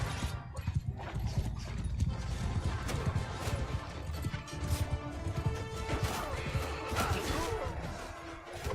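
Horse hooves clatter steadily in the Mount & Blade: Warband video game, mixed with battle crashes and clashing, forming a dense, continuous din.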